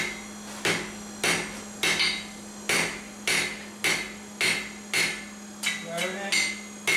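A blacksmith hammers hot metal while forging a toasting fork, flattening and tapering the point. About a dozen loud, ringing blows fall in a steady rhythm close by, with a brief clustered flurry near the end.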